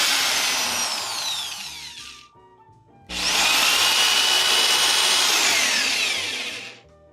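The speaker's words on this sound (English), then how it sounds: "The happy little drill goes round and round all day long" A power drill whines at high speed during the build of a table saw stand, in two long bursts separated by a short pause, with pitch sliding as the bit loads and frees, loud and close, no talk.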